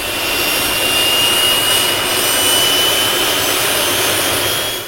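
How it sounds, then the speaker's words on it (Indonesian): A jet airplane taking off on a runway gives a loud, steady roar with a high whine running through it, holding constant for about five seconds with no other sounds. "suara pesawat jet di landasan saat take off"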